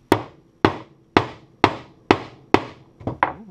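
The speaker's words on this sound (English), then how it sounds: "A little tap on the hammer." Seven sharp metallic-wooden taps from a hammer seating a hatch strut on a 1992 DSM car, evenly spaced about half a second apart, the last two coming quicker, close and clear.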